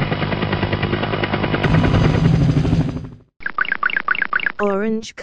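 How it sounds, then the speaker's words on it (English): A helicopter sound effect in a children's learning animation gives about three seconds of loud, rapid rotor chopping, then cuts to short bright tonal chimes and a warbling toy-like flourish. "Helicopter."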